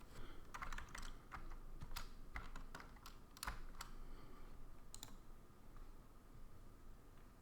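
Steady, quiet typing on a computer keyboard, irregular key clicks continuing for several seconds with no voices.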